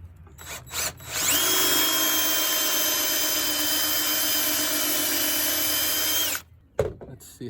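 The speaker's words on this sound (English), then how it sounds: "So I'm going to drill a hole right there." A power drill bores a hole to mount a custom kid-size handrail, a loud steady whine running unbroken for about five seconds after a few short starting bursts, then stopping abruptly.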